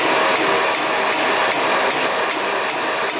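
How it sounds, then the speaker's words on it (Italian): A hammer strikes the stuck pin of a pellet stove's heat-exchanger cleaning handle with steady, forceful, evenly spaced metallic blows, about eight in quick succession over a constant background hiss of a running ash vacuum. "Se non si muove, date dei colpi di martello abbastanza forte."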